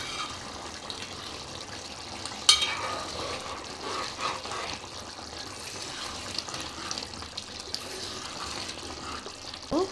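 Egg, drumstick and dried fish curry stirred in a pan, a steady wet sloshing, sizzling texture close by, with one sharp clink of the spoon early on and no talking.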